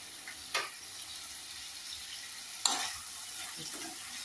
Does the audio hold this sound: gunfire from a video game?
no